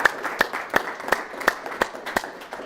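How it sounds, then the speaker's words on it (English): An audience claps for a speaker at a Pasadena event, a sparse, regular patter of a few hands with sharp individual claps spaced about a third of a second apart, close by and brief. "Clap it out for him, guys."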